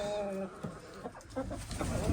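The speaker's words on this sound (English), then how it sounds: "That's my rooster. He's a beautiful guy" Chicken clucks and a rooster's calls sound close by, with short bursts scattered over steady farmyard background noise.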